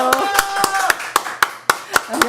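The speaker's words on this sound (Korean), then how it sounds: "가장 뜨거운 박수로 환영하겠습니다" Sharp, regular claps ring out at a steady beat, several in a row, under a sustained tone, sounding more like a few hands than a big crowd.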